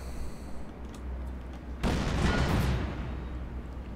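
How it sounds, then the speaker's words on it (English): Mortar bombardment in the real-time strategy game Company of Heroes 2: a sudden heavy blast erupts mid-way and rumbles out into a broad decaying roar over a low battlefield hum. "Looks like he's getting bombarded by a mortar now."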